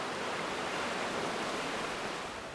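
A steady wash of surf noise rolls on without a break, a broad even hiss like waves breaking continuously, with no voices, on a sea turtle nesting beach.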